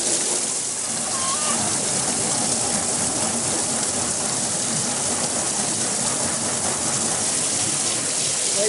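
Water gushes steadily and loudly from a hose or tap into an animal's water trough, a constant close splashing rush with no pauses.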